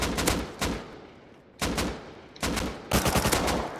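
Gunfire in the video game Rust: rapid bursts of shots come in clusters, a quick volley, a pause with ringing decay, then two more bursts, loud and close.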